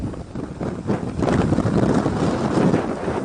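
Strong gusting wind during a dust storm in Delhi-NCR in May, a steady loud roar buffeting the microphone that builds after the first second and stays heavy, with no voices.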